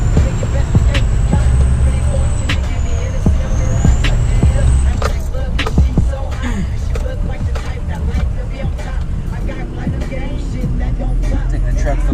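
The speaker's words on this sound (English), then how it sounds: "We're just driving in the truck right now." A Ford 6.0 Powerstroke diesel pickup truck on a drive, heard from inside the cab as a steady low engine rumble and road noise. Someone talks over it, and a high whistle rises briefly early on.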